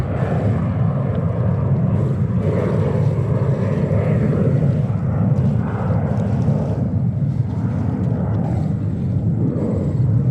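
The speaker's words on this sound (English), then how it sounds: "That is another Virgin Atlantic flight 47 from London Heathrow on a 330-900 Neo." A Virgin Atlantic Airbus A330-900neo in from London Heathrow at JFK, its engines a continuous low rumbling roar that swells and wavers slightly, heard alone at a moderate distance.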